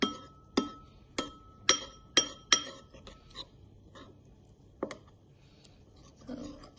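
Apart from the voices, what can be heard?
whisking miso into soup in a bowl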